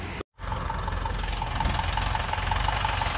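A household tractor engine idles steadily beside a rice paddy during mechanised harvesting in Uttar Pradesh, India. It gives a loud, continuous low rumble with a faint regular knock, broken only by a brief dropout near the start.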